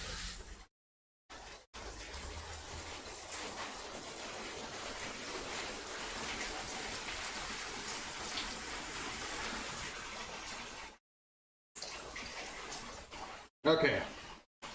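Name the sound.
rain falling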